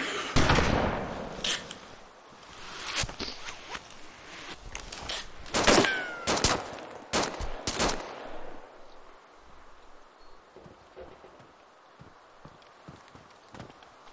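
Gunfire in the survival video game DayZ during a battle in the town of Elektro, a rapid series of loud sharp shots and cracks that thin out into scattered quieter pops over a constant noisy background.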